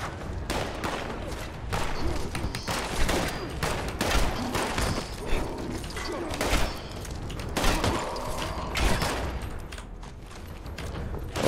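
Dense, rapid gunfire from the online game Fallout 76 rattles without pause, overlapping bursts and thuds filling the scene at steady volume.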